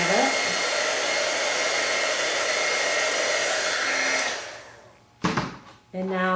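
Heat tool blowing a steady loud whooshing roar while melting embossing powder on a rabbit stamped card, then winding down to stop, followed by a brief clack and a short restart.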